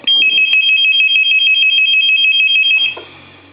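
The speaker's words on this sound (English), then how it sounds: "what it did was it rang and then seized the analyzer, and it will not ring more than one time" A telephone under repair rings once: a loud, close electronic warble pulsing rapidly for about three seconds, then cutting off abruptly into quiet room noise.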